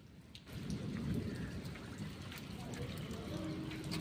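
Thunder rumbling during steady rain in a village, a deep roll that swells after a quiet start and then holds over dense rainfall on surfaces.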